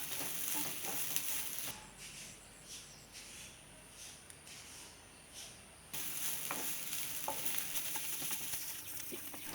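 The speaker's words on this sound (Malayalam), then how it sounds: "അപ്പോൾ തേങ്ങ മൊരിഞ്ഞിട്ടില്ല, ഇത്തിരി കൂടി ഉണ്ട്. അപ്പോൾ നമ്മളിങ്ങനെ ഇളക്കിക്കൊണ്ടേ ഇരിക്കണം." Grated coconut being stirred as it roasts in ghee in a pan, a steady close sizzle with soft scraping, quieter through the middle stretch before rising again.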